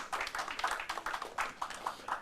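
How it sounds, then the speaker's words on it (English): Scattered, fairly faint hand clapping from an audience at a university law quiz competition, quick uneven claps running for a couple of seconds without a full roar of applause. "A round of applause for our contestants."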